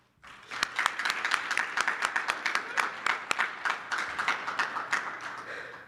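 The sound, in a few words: applause at an awards ceremony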